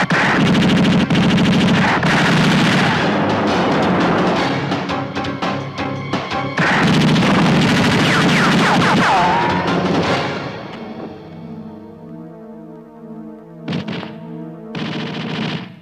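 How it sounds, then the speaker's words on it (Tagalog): An action movie shootout brings loud, rapid machine-gun bursts and overlapping gunshots for about ten seconds. The firing then gives way to sustained tonal sounds with a few sharp cracks. "kaya sila ay binaril ni Major Durango"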